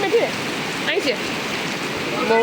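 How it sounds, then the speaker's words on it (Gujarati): Heavy rain pours steadily outside a shop, a dense continuous hiss with splashing that runs throughout, while a person talks over it. "કેટલો વરસાદ આવે છે"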